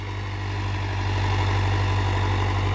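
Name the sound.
Mahindra Arjun 605 DI tractor engine idling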